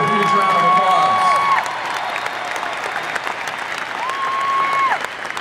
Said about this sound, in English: Please give each and every member of our crew a huge round of applause.